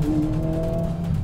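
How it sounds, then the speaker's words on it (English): Mercedes A45S hatchback's four-cylinder engine droning steadily on the overrun after lifting off, its exhaust crackling with a rapid string of small pops and bangs. "Then you lift off and you get these pops and bangs."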